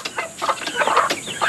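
A hen with her many chicks clucks in short, close bursts mixed with thin chirps, a quick lively farmyard chatter in the countryside with no voices.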